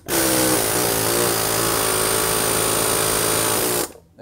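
A power tool works on the pitman arm of a Jeep Grand Cherokee's steering, a loud, close, continuous whirring run of almost four seconds that stops abruptly.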